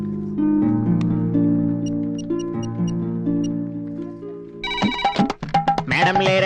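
A telephone ringtone plays a melodic, repeating tune, steady and clear for several seconds, before giving way to busier, clattering sounds and a brighter jingle at the end.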